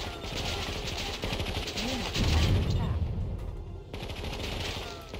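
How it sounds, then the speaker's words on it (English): Enemy gunfire in the real-time strategy game Warzone 2100, rattling bursts of machine-gun fire and explosions running continuously through the mix, with a louder thumping stretch midway and a voice talking over it. "Stop shooting at us."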